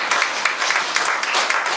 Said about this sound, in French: le distingué Armand Okadina, je voudrais bien vous demander de l'applaudir, s'il vous plaît.